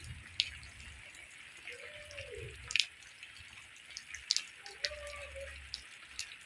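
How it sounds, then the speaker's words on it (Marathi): Rainwater flowing and dripping under a dark, cloudy evening sky, a quiet wash of water with scattered sharp drips and a few louder drops. "पाणी वाहतंय"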